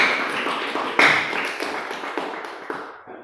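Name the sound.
applause for a group presentation in a classroom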